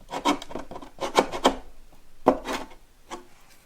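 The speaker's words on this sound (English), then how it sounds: "I'm going to just scrape the tops of these blocks off because they're higher than the kerf" Wooden kerf blocks inside the body of a 1962 Harmony archtop guitar are scraped down by hand in a handful of short, close, rasping strokes with brief pauses between them.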